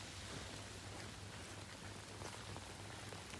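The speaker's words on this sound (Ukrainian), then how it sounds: "Дощик іде." Steady rain falls on an open pasture where cows are being herded, a soft continuous patter with no talk, fairly faint and even throughout.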